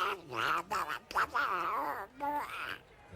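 Cartoon duck quacking during a 1995-96 Australia vs Pakistan Test cricket broadcast, a run of nasal, babbling quacks in quick bursts, fairly close and alone without commentary.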